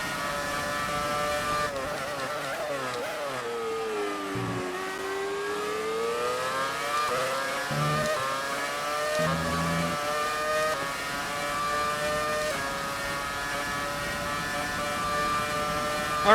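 Racing car engine in F1 2018, a Brawn car, droning loud and continuous for the whole stretch, its pitch dipping and climbing through gear changes with brief drops off the throttle, no one talking.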